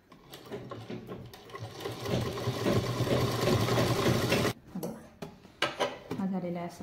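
A sewing machine runs in a steady rapid burst for several seconds, stitching a lining onto cloth. Short stop-start runs and handling clatter follow, and someone speaks softly at the end.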